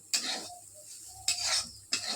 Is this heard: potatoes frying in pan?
yes